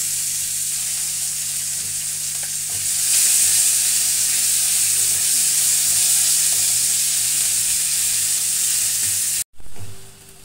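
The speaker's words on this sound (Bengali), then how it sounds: "তারপরে আমি এই কুচিয়ে রাখা পেঁয়াজটাও দিয়ে দিলাম।" Chopped onions frying in hot oil with a bay leaf and whole cumin, a steady close sizzle that grows slightly louder partway through, with faint stirring and no talk.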